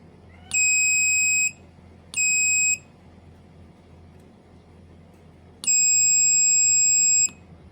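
An electronic buzzer on a breadboard circuit sounds three times, with a loud, steady tone in each. The first two blasts are about a second long and the third runs longer.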